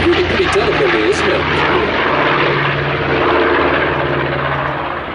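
The propeller engines of a B-25 Mitchell bomber drone loudly and steadily overhead in flight at an air display, a thick continuous roar with slight swelling, while someone talks over it.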